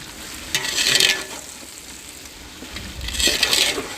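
Mutton browning in a pan, a steady sizzle broken by two louder bursts of stirring and scraping, close and alone with no voices.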